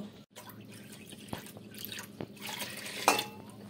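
Water poured from a small bowl into rice flour in a bowl, splashing and dripping close by with a few clinks of the vessel, quiet and brief with no talking.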